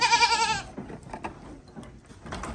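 Goats on a small farm in Jamaica, a loud close wavering bleat at the start followed by quieter rustling and scuffling, with faint further calls near the end.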